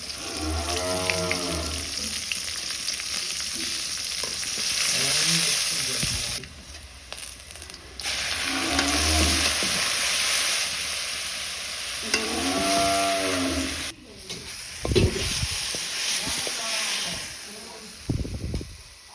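Onion, garlic and greens fry in a pan with a steady hiss, broken by short pauses, while voices and low animal-like calls sound over the sizzle at intervals.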